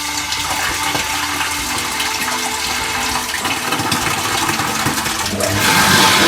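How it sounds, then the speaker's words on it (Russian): Water rushes from an opened tap on the suction line of a pump system to release pressure, a steady, loud hiss and gush that swells slightly toward the end, with no talk. "Стравливаем давление."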